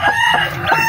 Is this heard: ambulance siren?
no